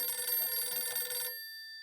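A telephone bell rings steadily and fairly close, a bright, continuous trilling that stops abruptly and leaves silence.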